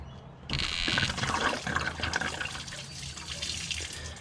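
Coolant gushes and trickles from the bottom radiator hose of a Holden Commodore V6, a steady close splashing stream that starts abruptly and keeps running, with no talk.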